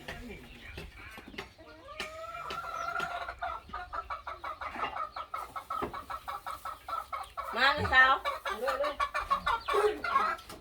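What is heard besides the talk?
chickens clucking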